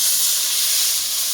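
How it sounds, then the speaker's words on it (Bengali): Hot water poured into masala frying in oil for a Bengali potol chingri korma of pointed gourd and prawns gives a loud, steady steaming hiss and sizzle, close and unbroken. "গরম জল দিয়ে দিচ্ছি।"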